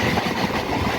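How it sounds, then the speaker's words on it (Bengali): A passenger train rolls into Matla station on a rural line, wheels clattering loudly and steadily over the rails at close range with no voices. "তা এই ট্রেনটাও আজকে দাঁড়াবে।"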